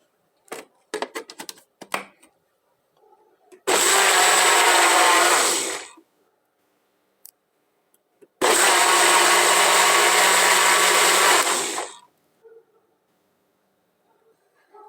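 Electric mixer beating eggs with butter for sweet bread dough, running in two loud steady bursts of about two seconds and three and a half seconds, with faint clinks and handling noises before and between.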